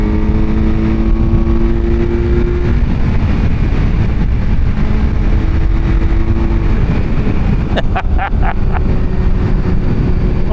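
A sport naked motorcycle powers along loudly and close, its engine droning steadily with rising tones as it accelerates, followed by a brief burst of sharp, rapid crackles near the end.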